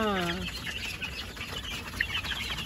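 Six-week-old Dekalb White chickens cluck and chirp nearby amid steady farm background noise, with a short rising call at the start and a voice talking over them.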